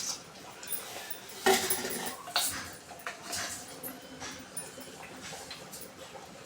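Mustard seeds hit hot oil in a pan, giving a sharp burst of crackle and clatter followed by softer scattered pops and light metallic clinks against a low background hiss.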